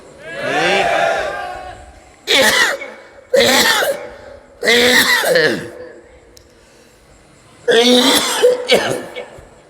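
A man coughs in a series of harsh, strained bursts, four or five separate fits spaced a second or so apart, close and loud, with throat clearing between them and no words.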